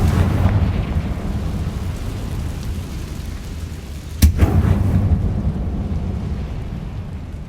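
A Confringo explosive spell goes off in Hogwarts Legacy: a sharp burst partway through, followed by a short crackling tail, set against a steady low rumble of game ambience.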